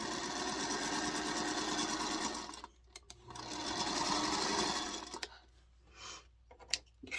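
Sewing machine stitching pieces of a Christmas tree quilt block, a steady rapid mechanical run that stops near the middle, restarts, then breaks into short pauses with small clicks and handling noises.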